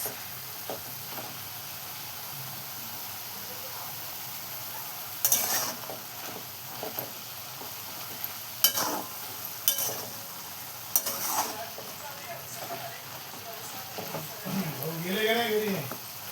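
Harbhara gram-leaf bhaji sizzling softly in a pan with a low constant fry, broken by a few sharp spatula scrapes and clinks as it is stirred, and someone talking toward the end.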